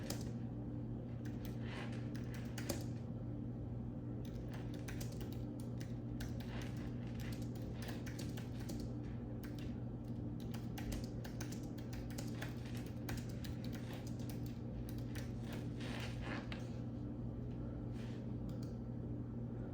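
Someone types on a computer keyboard in irregular bursts of quick clicks with short pauses, over a steady low hum and without any talking.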